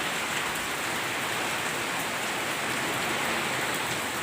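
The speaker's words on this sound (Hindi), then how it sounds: "अभी बहुत तेज़ बारिश है" Heavy rain pours down in a constant dense hiss, loud and unbroken, drumming on surfaces with no voices heard.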